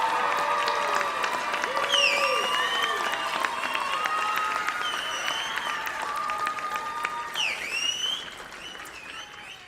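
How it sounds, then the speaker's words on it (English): Sustained applause and cheering from a graduation crowd for nursing graduates at a pinning ceremony, dense clapping with occasional whistles and shouts, fading slightly toward the end. "Give them a round of applause."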